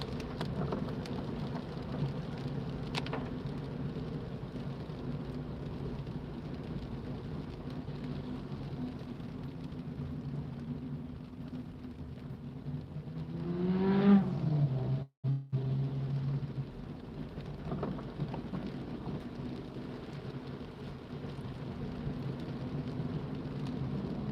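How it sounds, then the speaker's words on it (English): Heavy rain drums on a car during a very wet drive from Walkden to Wigan, a steady hiss over low road and engine rumble, with a brief swelling whoosh partway through and no talk. "Raining more here."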